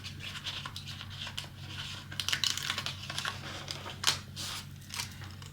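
Scissors make small, crisp snips and rustles of paper close by while a planner is cut, irregular and fairly quiet, over a low steady hum.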